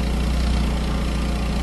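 A car engine in a children's educational video game drones at a steady, loud idle, a continuous low hum with no talking over it.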